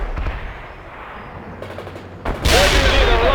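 Gunfire in the real-time strategy game World in Conflict during a Soviet mission against insurgents: scattered shots, then a loud sustained burst of automatic fire near the end, with game voices faintly mixed in.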